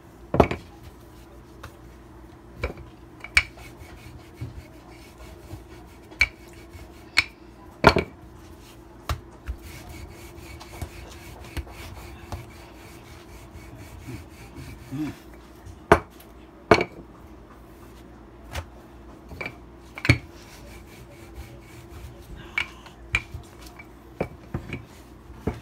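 Guyanese roti dough being rolled out and turned on a wooden board, giving soft scattered thumps and clacks of the rolling pin at an irregular pace, close and fairly quiet with no talking.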